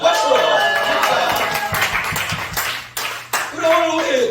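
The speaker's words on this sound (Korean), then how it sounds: "박수!" Applause from the audience at a church youth worship service, a dense patter of clapping through the clip with brief dips, mixed with cheering voices and talk near the end.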